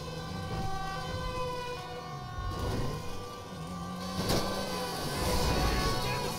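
A fire truck siren in GTA 5 wails with rising and falling tones over a steady engine rumble, joined by sharp bursts and clatter in a busy mix.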